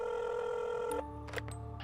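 A telephone rings with a loud steady tone that cuts off after about a second, followed by a couple of short electronic beeps and a lower hum.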